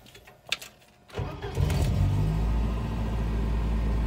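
A 1985 Volvo 240 station wagon engine with 317,000 miles cranks briefly and catches, settling into a steady low idle rumble, heard up close.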